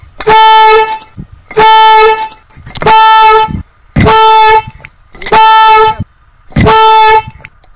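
A homemade loud horn, rigged to scare away monkeys, blares in six long, strident blasts with short gaps between them, very loud and close.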